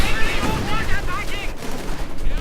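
Machine gun fire in the Company of Heroes 2 strategy game during a 2v2 match, an MG halting advancing Guards rifle infantry: dense, continuous rattling bursts amid battle noise, steady and loud throughout.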